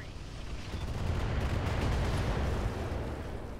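Mech weapons fire in the Roguetech battle game, a dense and loud roar of blasts and impacts that swells and holds for several seconds before easing off.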